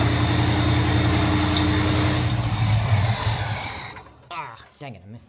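A 1971 Pontiac Firebird engine idles roughly and loud up close for about four seconds, then cuts out, leaving a few scattered sounds afterward.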